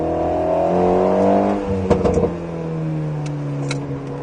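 An Alpine A110S is driven hard on the Nogaro race track, its engine droning loudly from inside the car, the pitch easing as it lifts off, with brief tyre and chassis noises partway through.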